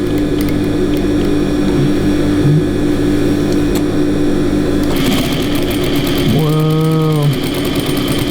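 Sewing machine running a steady stitching line through denim, a continuous loud mechanical whir throughout with a brief higher tone near the end.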